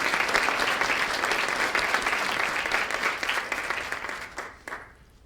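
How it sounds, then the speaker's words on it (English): Sustained applause from an audience at a nursing school white coat ceremony, dense steady clapping that holds for several seconds and then thins out toward the end. "So let's give them a round of applause."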